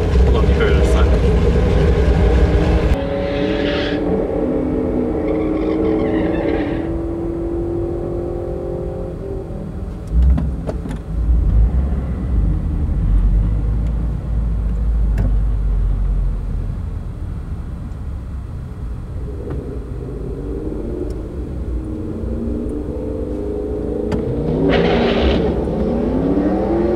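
A 2015 Subaru WRX launching down a quarter-mile drag strip, engine revving and shifting through gears with rising and falling tones, a voice talking over the engine noise throughout.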